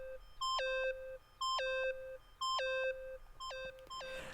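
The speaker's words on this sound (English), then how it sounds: "Stop that goddamn beeping and say something!" A device in the Danganronpa video game beeps in a repeating electronic pattern, four bursts of stepped descending tones at an even pace, moderately quiet and alone before a noisy rush at the end.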